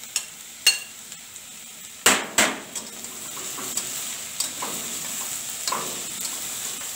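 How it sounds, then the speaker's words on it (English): Cabbage, French beans, three kinds of peppers and celery sautéing for minestrone soup: a soft sizzle behind several sharp metal spoon clanks against the pan, a cluster of strikes at once, then lighter stirring scrapes. "Now our vegetables, we have sauteed our vegetables"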